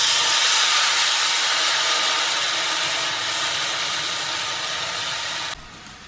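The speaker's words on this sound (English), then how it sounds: "you're going to want to throw your steak on to the cast iron" A steak sears in a hot cast iron pan with a loud, steady, close sizzle that holds for about five seconds, then drops abruptly to a quieter hiss.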